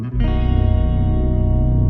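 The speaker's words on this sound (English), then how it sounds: "This is like floaty, awesome bass." A floaty, effects-laden bass layered under distorted guitars, holding one loud sustained chord with a gentle wavering pulse and no voice.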